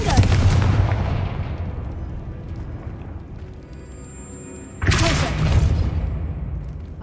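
Confringo blasting spell explosions in the video game Hogwarts Legacy: a loud, booming burst opens and slowly fades, then a second heavy blast hits suddenly around the five-second mark.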